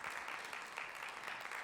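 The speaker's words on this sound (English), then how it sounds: "let's give a round of applause for this man" Audience applause filling a room at a podcasting gathering, a steady, even wash of clapping that holds for the whole stretch without voices breaking through.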